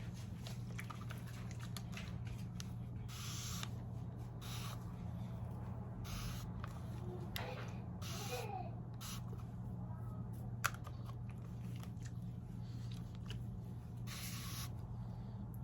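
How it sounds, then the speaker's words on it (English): Several short bursts of alcohol spray hiss from a spray bottle onto glue on a lace wig, spaced irregularly over a steady low hum of background noise. "I'm going to go back in to spray some more alcohol"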